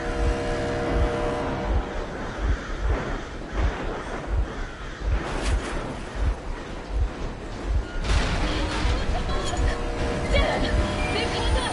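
Vehicle engine running in the video game Metro Exodus, a steady rumbling drone with rhythmic thumping beats underneath, heard continuously at close range with a few louder bursts partway through.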